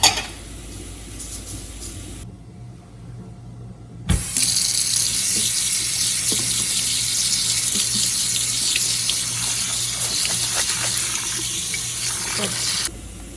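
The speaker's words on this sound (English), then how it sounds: "The rice and the dal in here, and I'm going to wash it." Rice and dal being washed under a running kitchen tap, a steady close gush of water splashing into a sink bowl, briefly stopping and then flowing on without talk.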